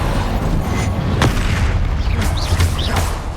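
Spell blasts from a Hogwarts Legacy duel, Depulso or Confringo, land as several booming hits over a dense, constant low rumble, with a couple of sharp bursts standing out near the middle and toward the end.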